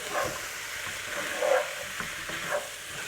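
Washed rice being mixed into sizzling chickpea and paneer pulao, a steady hiss of frying with soft scraping stirring strokes close by.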